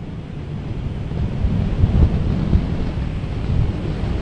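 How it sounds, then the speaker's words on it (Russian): A Soyuz 2.1 rocket roars during launch, a loud, continuous low rumble with gusty crackling surges, steady and distant-sounding, with no voices over it. "Двигатели первой и второй ступеней работают нормально."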